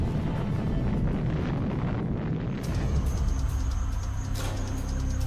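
Giant asteroid explosion effect, a continuous heavy low rumbling roar with a slight shift in texture midway, loud and sustained, no speech.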